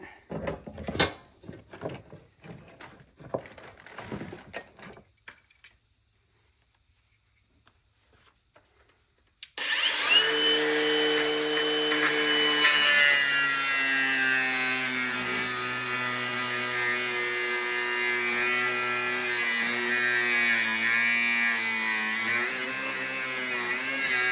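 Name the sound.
grinder with grinding wheel cutting hard steel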